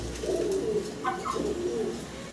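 Satinette pigeons coo softly with low, rolling calls close by over a quiet, steady room hum, with no talk.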